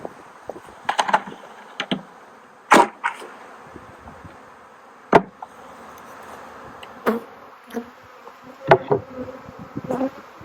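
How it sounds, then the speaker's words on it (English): Honey bee swarm shaken off a branch into a bucket during a swarm capture: dense buzzing hum throughout, broken by sharp knocks and thumps of bees and branch hitting the bucket, close up with no talking. "give it a shock up to knock the bees off the branch and into my bucket"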